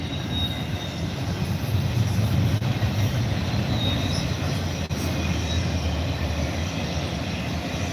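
A CSX freight train rolls past close by, a steady loud rumble of railcars and wheels on track with faint wheel squeal throughout, no voices.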